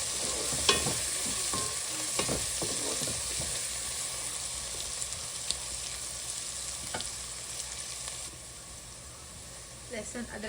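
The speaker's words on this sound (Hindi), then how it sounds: "और इसको हल्का सा सौटे करेंगे 1 मिनट के लिए।" Ginger-garlic paste sautéing in a pan for a Pakistani chicken and potato curry, a steady broadband sizzle with scattered stirring scrapes running throughout, fairly close and even in level, with no speech.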